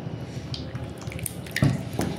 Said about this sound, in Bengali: আমি আরেকটুখানি তেল দিয়ে দেবো, একদম অল্প